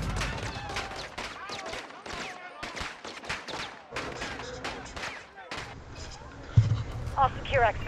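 Gunfire and heavy explosive booms in Call of Duty: Modern Warfare II come in repeated bursts, dense and loud, with voices talking over the combat.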